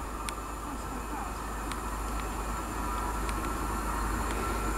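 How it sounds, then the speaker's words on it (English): A Great Western Railway service from Cardiff Central to Taunton approaches in Somerset with a steady, building rail rumble and a low hum, plus faint sharp clicks from the track. "approaching as well is the 1316 Great Western Railway service from Cardiff Central to Taunton"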